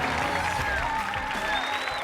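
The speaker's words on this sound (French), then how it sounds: "Applaudissez-les bien fort." Studio audience applauding contestants on a reality competition show, a dense steady clapping wash with faint whistles and cheers over it, fairly close and sustained throughout.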